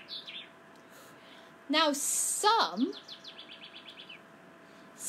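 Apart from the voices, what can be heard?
birds chirping while eating seed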